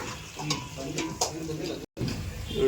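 Curry leaves frying in oil for a Roopchand fish curry, stirred with a ladle, giving soft scraping taps over a light sizzle with a brief dropout near the end.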